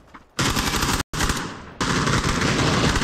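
Bursts of automatic gunfire in a Chinese-language shooter video game, loud and close, with a sustained rattling volley, a brief cut, then another long continuous stream of shots.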